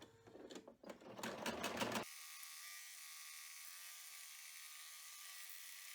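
An embroidery machine sews the finishing stitches and lacing-hole placements on a dice pouch: about two seconds of rapid, rhythmic stitching close by, then a steady mechanical whir.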